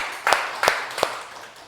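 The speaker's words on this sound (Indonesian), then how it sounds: "Beri tepuk tangan buat Mbak Asna." Three sharp, separate hand claps in a classroom, evenly spaced and fairly close, honoring a student, with a faint room tail after each.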